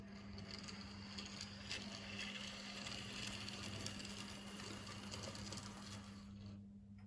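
A model train locomotive's small electric motor whirs steadily with a faint rattling, mechanical buzz, close by and continuous, then drops away at the very end.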